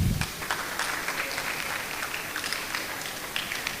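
Audience applause at a training seminar, a dense, continuous clapping that holds steady throughout with a few sharper claps standing out.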